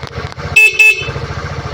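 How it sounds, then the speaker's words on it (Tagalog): Two short, loud honks from a Euro Griffin 180i motor scooter horn, close by, with the engine idling in a low rumble before and after. "Ito po yung horn niya. Pakinggan nyo."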